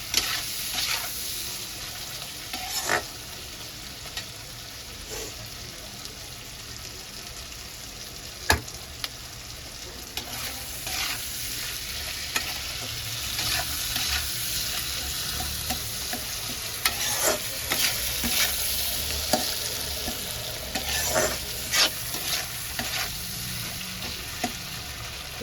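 Tomatoes and potatoes sauté in a pan for chole curry, a steady low sizzle with repeated scraping and clinking strokes of a spoon stirring throughout.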